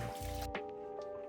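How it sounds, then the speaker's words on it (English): Brief wet splashing and dripping as a man rinses cleanser off his face with water at a basin, a few close, soft liquid squishes with no talking. "It's gonna rinse."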